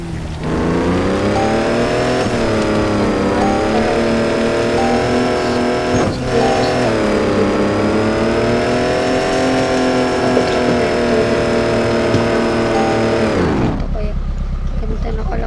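Stock car engine in an off-road driving video game, revving loudly and steadily with rising and falling pitch for about thirteen seconds before cutting out abruptly.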